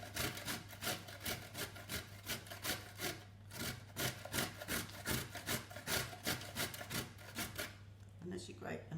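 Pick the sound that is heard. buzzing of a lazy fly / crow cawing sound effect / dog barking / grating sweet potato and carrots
grating sweet potato and carrots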